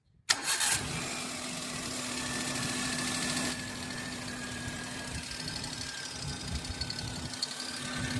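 A Suzuki Alto 800 engine, its timing belt freshly re-tensioned, cranks and fires abruptly, then settles into a steady close idle with a whining hum.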